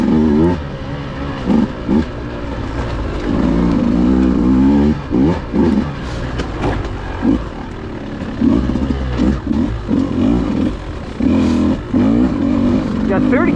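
A Beta dirt bike ridden in third gear through woods, its engine revving hard and loud with repeated surges and brief drops as the throttle opens and closes, with a rider's voice occasionally over it.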